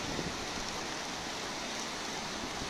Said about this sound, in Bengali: এই মুহূর্তে যে সিলেটে মুষলধারে বৃষ্টি হচ্ছে